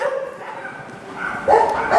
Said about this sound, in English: There are dogs barking all over the place right now.